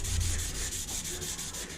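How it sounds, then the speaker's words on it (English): Steady back-and-forth rasp of sandpaper on a sanding stick being worked along a knife blade in a knife shop, rhythmic strokes repeating evenly at close range with no talking. "you take that sanding stick and you put sandpaper on it and you sit there and you sand that knife."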